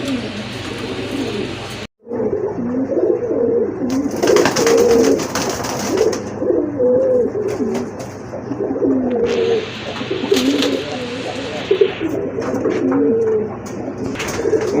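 Red fancy pigeons at a sale cooing, repeated throaty coos close by, layered over one another with a few wing flutters and brief pauses.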